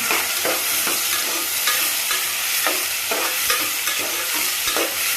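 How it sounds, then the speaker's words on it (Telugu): Sliced onions fry in a pan with a pinch of salt for a Sunday chicken and drumstick curry, giving a steady, loud sizzle throughout with repeated scraping strokes of a stirring spoon. "ఉల్లిపాయలు బాగా దోరగా ఎగాలి ఉల్లిపాయ వేగడానికి కొంచెం సాల్ట్ వేసుకుందాం"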